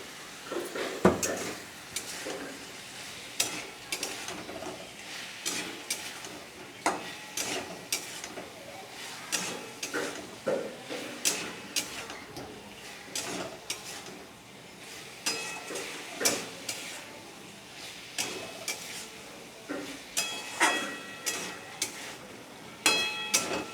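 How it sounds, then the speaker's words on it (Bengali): Chicken mince and fried potatoes are sautéed in a pan, with repeated scraping and clinking strokes of a spatula over a faint sizzle throughout. "আমার চিকেন কিমা এবং আলু ভালো মতো করে কষানো হয়ে গেছে"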